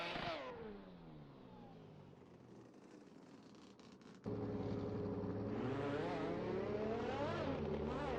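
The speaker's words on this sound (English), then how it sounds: "showing off in that RX-8 and destroying his limiter" A Mazda RX-8 in a racing video game drifts at Misano with its engine held against the rev limiter. The whine swings up and down, then grows louder and harsher halfway through as the revs stutter against the cutoff.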